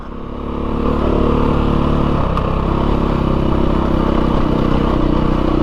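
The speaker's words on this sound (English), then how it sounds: "this 430 model, which is considered the high-strung one. But it's quite happy to just putt along." A 2022 Beta 430 RR-S dirt bike engine putts along at low revs on an off-highway-vehicle trail, a steady, loud, close drone that swells in the first second and then holds even throughout.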